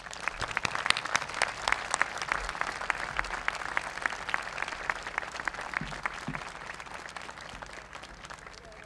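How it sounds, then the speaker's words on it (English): Applause from the audience at a 2018 commencement ceremony: many hands clapping fast and crisply at moderate distance, holding steady throughout, with a few faint low thumps beneath and no talk. "Another round of applause."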